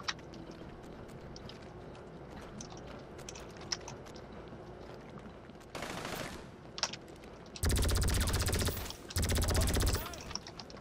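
Gunfire in the video game GTA 5 Online: scattered faint shots, then two long, loud bursts of rapid automatic fire near the end.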